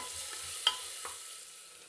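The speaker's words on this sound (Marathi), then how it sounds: "दोन ते तीन मिनटं कमी गॅसच्या फ्लेमवर आपण हा कांदा तेलात चांगला परतून घेऊ" Finely chopped onion sizzles gently in oil over a low gas flame, a soft steady hiss with a couple of light scraping stirs from a spoon, close by and with no voices.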